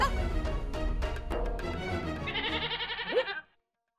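A person imitating a goat's bleat, a wavering, nasal, vibrato-like cry that rises and trembles before cutting off abruptly, close and fairly clear.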